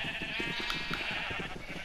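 Sheep bleat in a video game with quick, wavering cries over a short stretch, fairly close and clear with no talk.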